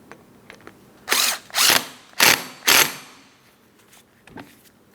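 A ratchet or power driver tightens a 13mm mounting bolt on a serpentine belt tensioner shield for a 2003-2007 Cadillac CTS 3.6L V6, heard as four loud whirring bursts in quick succession, then fainter clicks, close up and without speech.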